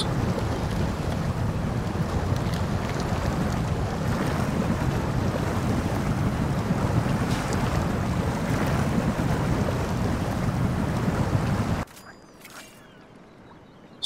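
Truck fording water in the MudRunner Expeditions video game, a broad continuous rushing wash of water and engine rumble, loud and steady before cutting abruptly to near silence at the end.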